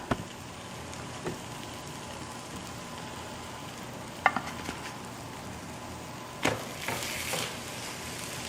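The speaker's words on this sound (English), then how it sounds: "I am going to take one at a time and put on my griddle over here" Vegan barbecue ribs coated in sauce sizzle steadily on a hot griddle, a soft continuous crackle with a few sharp clinks and scrapes of handling, no talking.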